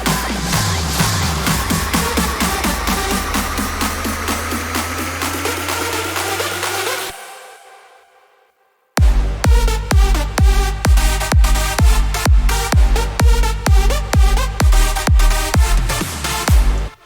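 An electronic dance drop with pitched kick drums: a dense build of fast repeated hits, a brief near-silent gap, then loud punchy kicks pounding in a steady four-on-the-floor rhythm with bright synth chords.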